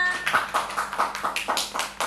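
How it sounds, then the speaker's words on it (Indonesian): A small group in a classroom claps in a fairly regular rhythm, about a dozen distinct, close claps over two seconds with no talk. "Mana tepuk tangannya?"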